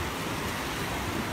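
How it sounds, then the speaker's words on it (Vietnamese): Rain falls steadily over the sea at a fishing village in Cần Giờ in the early morning, a dense, even hiss with no breaks during the brief moment. "không có nắng mà chỉ mưa rồi"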